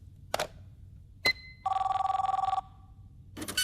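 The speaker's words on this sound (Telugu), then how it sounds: "అది ఫోన్ కాదు, ఫ్యాక్స్" An office fax machine rings with a single short electronic trill, then a longer warbling ring, set apart by short gaps of quiet, with faint knocks and room noise around them.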